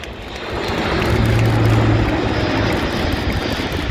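An Airbus A400M military transport with contra-rotating propellers powers up for a go-around at an air show, a loud swelling propeller-engine roar with a low droning hum that builds then holds.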